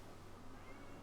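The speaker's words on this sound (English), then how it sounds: "Hi, kitty cat." A cat meows in the video game The Legend of Zelda: Ocarina of Time, run as a randomizer. The call is short and fairly quiet, set against a steady background hum.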